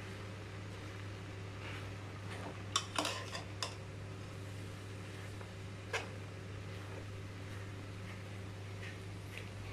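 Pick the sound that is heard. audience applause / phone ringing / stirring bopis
stirring bopis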